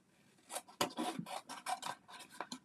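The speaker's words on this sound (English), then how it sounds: "I'm just going to trim this down." Stamped cardstock pieces being trimmed for handmade greeting cards, a series of short rasping cuts and rubbing strokes, close and fairly quiet, with irregular pauses between them.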